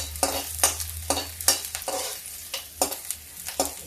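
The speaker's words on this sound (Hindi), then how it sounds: "प्याज पक रहा था," Onions frying in a pan while being stirred, with a rhythmic series of scraping spoon strokes roughly every half second over a low, steady sizzle, close and moderately quiet, without speech.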